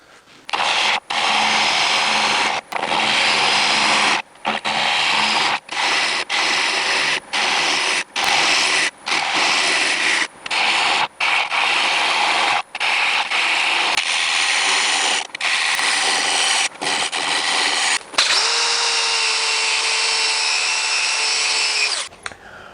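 Wood lathe turning an oak piece mounted on a faceplate: loud, continuous rough cutting and scraping broken by many brief gaps, then a smoother, steadier hum near the end, up close, with no talk.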